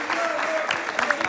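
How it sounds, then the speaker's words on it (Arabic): Audience applause on a television show, a moderate, steady patter of clapping under a voice talking over it. "تصفيقة كبيرة على هواوي"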